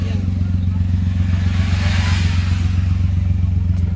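A turbo semi-wagon's engine idles steadily and loudly, its low droning rumble continuous throughout, with light clatter on top.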